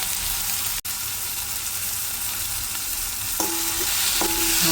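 Sprouted moth beans (matki) frying with black masala, coriander powder, turmeric and salt in a pan, a steady loud sizzle with stirring scrapes throughout and a couple of brief clinks near the end.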